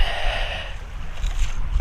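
Vehicles rolling through a shallow desert creek crossing near Moab, a steady broad wash of engine and splashing water noise at close range, with no voices.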